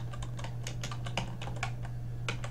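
Rapid typing on a computer keyboard while entering a search term, a steady patter of crisp key clicks in uneven bursts over a low constant hum, close and fairly quiet.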